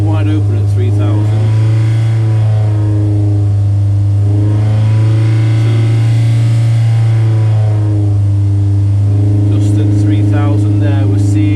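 A 1150 race engine runs wide open at 3000 rpm on a water dyno, a loud, steady, heavy drone that holds throughout with a slight rise and fall in pitch.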